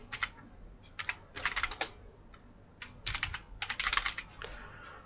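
Close, crisp computer keyboard typing as a Linux update command is entered on a Kali Linux machine, coming in quick bursts of keystrokes separated by short pauses, with no voices.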